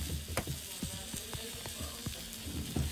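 Food cooking in Roblox Bloxburg, heard as a soft continuous sizzle with light stirring clatter, faint and without any talking.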